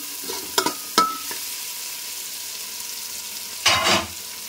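Sliced onions frying to a reddish brown in a pan: a soft, low sizzle throughout, broken by a few sharp spatula clinks and scrapes early on and a louder stirring rustle near the end, with no talk.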